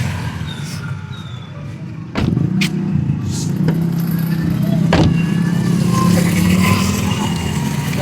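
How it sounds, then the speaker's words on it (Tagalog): A car passes on a street in a residential area, its steady engine and tyre rumble building after a sharp bump and holding loud and close for several seconds, with people talking around it. "May sasakyan kasi."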